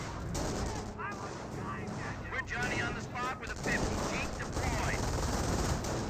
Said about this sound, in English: These forces are receiving quite a bit of fire right there. We've got the MG42 in the region, forcing back those forces.